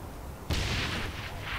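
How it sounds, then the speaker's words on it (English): An explosion in the video game Saints Row The Third, a sudden loud boom with a rumbling tail that erupts after a quiet moment. "Explosion."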